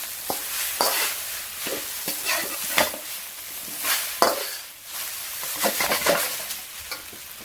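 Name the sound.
stir-frying prawn chow mein noodles with salt and MSG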